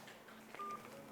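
A single faint telephone dialing tone beeps briefly while a call is placed from another phone, over a low, noisy background.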